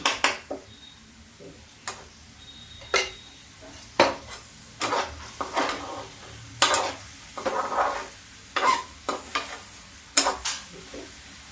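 Pumpkin halwa being stirred in a pan with desi ghee: repeated scraping and clinking strokes of a spoon against the pan, irregular and close, over a faint background sizzle, with no talking.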